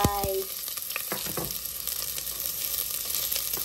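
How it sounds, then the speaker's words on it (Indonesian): Sliced onion stir-fries in a pan with a steady close sizzle, with a few utensil clinks near the start and then an even, continuous frying hiss. "Lalu kita masukin bawang yang sudah diiris, yaitu bawang bombay."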